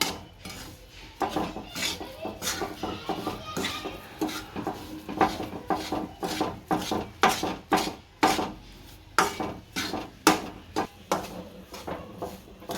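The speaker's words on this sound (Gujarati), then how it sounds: "અને હલાવી નહીં તો તળિયે બેસી જાય પાછો, થોડો થોડો હલાવવો પડે" A spoon stirring rajgira shiro in a metal pan, dense rapid scraping and clinking strokes in an irregular but continuous rhythm, close and fairly loud, with no talking.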